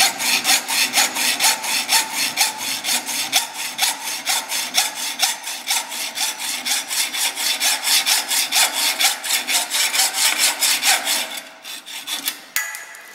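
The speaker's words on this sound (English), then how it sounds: "So that's a Baco Swedish hacksaw blade, 14 tooth per inch." Hacksaw fitted with a Bahco Swedish 14-teeth-per-inch blade cuts with steady, even back-and-forth strokes, a rasping rhythmic sound close up that slows and stops near the end.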